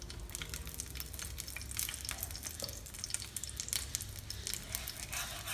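Egg with thankuni leaves frying over low heat in a pan, a quiet continuous sizzle with light crackles, no talk.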